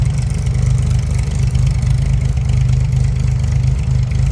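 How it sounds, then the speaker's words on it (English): A 1963 Chevrolet Corvair Monza 900 convertible's engine idles with a steady, loud, low rumble, its even pulsing beat holding constant the whole time with no talking. "Little rumble coming out of that Corvair."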